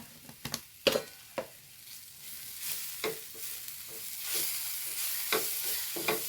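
Kothu chapati with garam masala and vegetables stirred in a hot pan, sharp spatula scrapes and clanks at irregular intervals over a soft sizzle, close and fairly loud.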